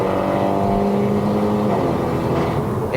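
Mercedes-Benz A180 W176 engine revving after a downshift, a steady loud drone heard from inside the cabin with a slightly rising pitch, with no talking.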